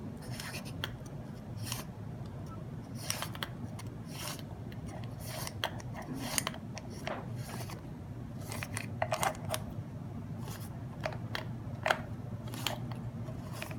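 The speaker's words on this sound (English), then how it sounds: "Then take the internal assembly, thread it in to the hub shell clockwise." Sturmey-Archer S40 hub internal assembly being threaded clockwise into the hub shell, giving soft metallic scraping, ticking and rasping sounds in an irregular run of small clicks throughout, close and fairly quiet, with no talk.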